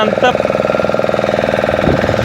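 Engine of a small river boat travelling along a Krishna river channel near mangrove forest, a loud close rhythmic chugging throb with steady pulses, and a voice briefly heard over it.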